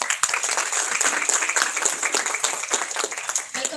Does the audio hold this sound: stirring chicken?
no